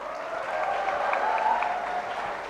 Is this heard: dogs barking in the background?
no